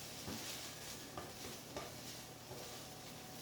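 Pork carnitas fry and sizzle in pans on a stovetop, a steady dense hiss with a few faint stirring scrapes and no voices.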